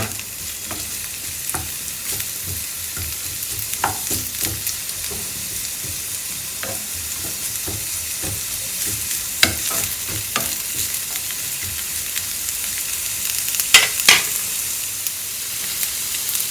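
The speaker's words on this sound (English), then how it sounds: "we need to saute this for some time till the onions are translucent" Sliced onions and curry leaves sautéing in a pan, a steady close sizzle with repeated scraping strokes of a spatula and occasional sharper clicks, no voices.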